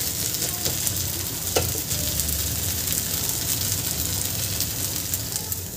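A jowar flour dhirde roasts on a hot pan, giving a steady, close sizzle and crackle throughout, with a faint scrape partway through.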